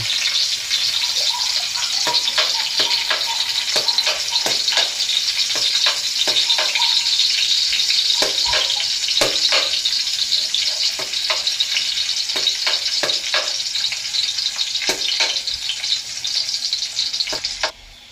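Garlic frying in a hot pan for chicken liver and gizzard adobo, a loud, steady close sizzle with scattered sharp crackles and pops running the whole time.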